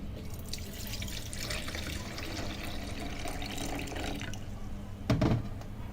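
Tap water runs steadily into a sink while lentils are washed, a constant close splashing stream that swells into a louder gush near the end.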